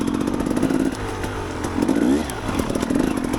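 A KTM EXC 250 dirt bike engine while riding, a buzzing two-stroke rev that rises and falls in pitch, loud and close throughout.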